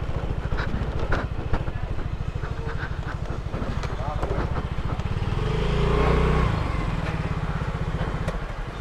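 A Yamaha 125 automatic motorcycle riding along, its engine a steady, close rhythmic putter that swells briefly midway, with wind noise and a rider talking over it.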